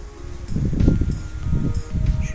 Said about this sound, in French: En plus, les amis, il y a du vent.